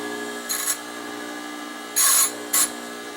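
A swing-arm figure skate sharpening machine hums steadily while its grinding stone is dressed, giving three short, bright scraping bursts, the middle one longest. Close and distinct, with no talking.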